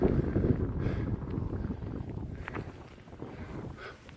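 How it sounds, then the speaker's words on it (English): Wind gusts buffet the microphone on the Cateran Trail in the Scottish countryside, a steady low rumble that swells loudest at the start and eases slightly toward the end, with no talking. "Oh, there's the wind."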